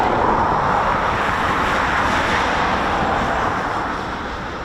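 Eurofighter Typhoon FGR4 jet making a touch and go at an RAF station, heard as a loud, steady broadband roar that holds throughout and eases slightly toward the end.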